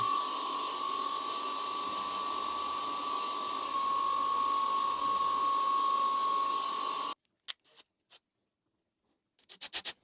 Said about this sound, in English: set this back up in the mill and put that thread in